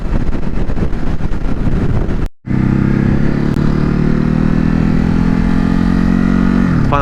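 A 2021 Ducati Hypermotard 950 RVE Edition motorcycle rides on a freeway, its loud engine drone steady and close under heavy wind buffeting, with a brief dropout before the engine tone settles into a sustained rising hum.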